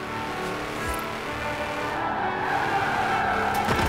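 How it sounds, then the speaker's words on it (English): Tires skid and squeal as a car spins out in Forza Horizon 4, a continuous loud screech over steady engine roar that swells toward the end. "Oh, I'm not the only one that's spinning out."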